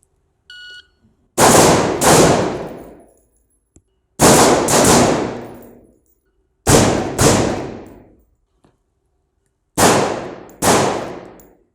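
Handgun fired in a close-quarters shooting drill: after a short electronic beep, four loud, close double taps ring out as quick pairs of sharp reports with echoing decay, separated by brief pauses.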